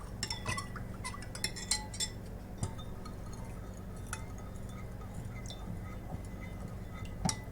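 Food coloring being stirred into dye water for yarn dyeing: faint scattered clinks and taps of a utensil against a container, quiet and irregular in a calm room.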